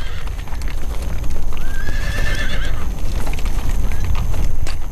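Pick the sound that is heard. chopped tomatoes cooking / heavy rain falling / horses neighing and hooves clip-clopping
horses neighing and hooves clip-clopping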